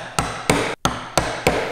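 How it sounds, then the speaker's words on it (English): A chisel is struck with a mallet to chop down into timber for a dovetail housing joint, five sharp, close wooden knocks at a steady, deliberate pace with short gaps between them. "I'm just going to chop down from there"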